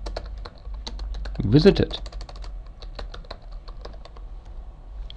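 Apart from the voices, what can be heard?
typing on a computer keyboard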